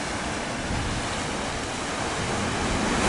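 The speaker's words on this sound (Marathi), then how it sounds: "लाटांचा वेगळा आवाज तुम्हाला ऐकू येईल" Ocean waves crash in a steady, dense roar of surf, loud and continuous, swelling slightly toward the end, with no voices.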